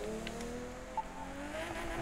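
A Nissan Fairlady drives in the racing game The Crew 2, its engine a steady, fairly quiet tonal drone that climbs slowly in pitch, with a faint brief squeal mid-way.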